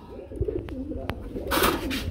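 Several pigeons coo in low, rolling murmurs, close by and overlapping, with a burst of rustling flutter near the end.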